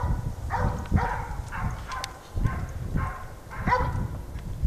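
Hunting dogs chasing wild boar bark repeatedly in a rough, uneven rhythm at a moderate distance, several yelping barks in quick succession over outdoor background noise.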